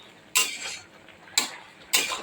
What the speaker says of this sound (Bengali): লাউটা ভালো করে নেড়ে দিই